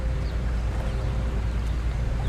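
Engine of a fishing boat on the Barents Sea: a steady, deep droning rumble with wind-like noise and no clear change in pace.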